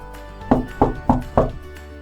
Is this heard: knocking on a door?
yes